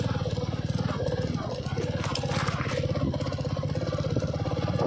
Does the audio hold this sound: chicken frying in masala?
no